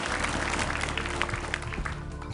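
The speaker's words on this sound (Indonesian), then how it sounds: "Tepuk tangan untuk Faisal dari tim C." Brief applause for a quiz contestant at a televised school quiz show, a moderate patter of clapping from a studio audience that gradually thins out.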